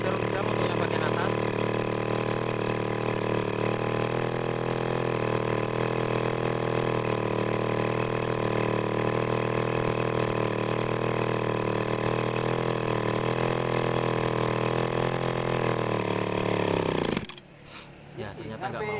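Small engine of an agricultural sprayer that will not rev, idling at a steady, droning pitch close by for a long stretch, then cutting out abruptly near the end.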